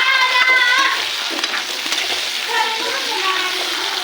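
Bell pepper curry fries and is stirred in a pan, a loud, continuous sizzle with the scrape of a spoon moving through the vegetables, close up and without talk.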